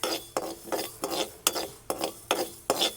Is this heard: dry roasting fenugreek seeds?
yes